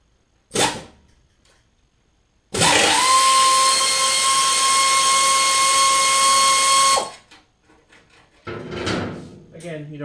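A power tool undoing a bolt on the side muffler pipe of a BMW K1600GTL motorcycle, a single sustained high-pitched whirring whine lasting several seconds, close and loud, with short clunks before and after.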